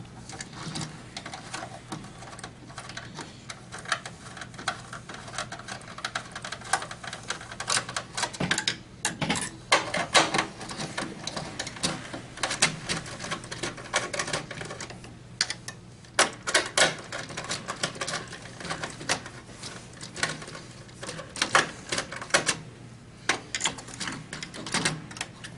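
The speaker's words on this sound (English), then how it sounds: "Last thing we have to do is remove the contactor mounting screws." Mounting screws are unscrewed from a contactor on Simplex equipment, giving a long run of irregular, close clicks, scrapes and ticks from the tool and metal parts, with no talking.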